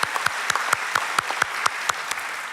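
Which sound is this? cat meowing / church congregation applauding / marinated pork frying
church congregation applauding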